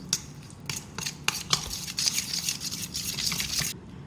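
Spoon stirring chicken tikka marinade of ground spices, food colour and oil in a bowl, giving soft wet squelching and scraping with light clinks in a steady rhythm, faint and close, no talk.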